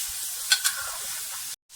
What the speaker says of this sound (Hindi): लहसुन अदरक के पेस्ट के साथ भी मैं इसको बहुत ही अच्छे तरीके से भूनूंगी